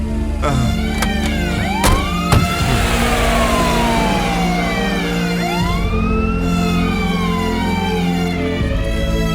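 A car engine pulls away and drives off, steady and close, with rising and falling siren-like wails sweeping over it throughout and a couple of sharp clicks early on.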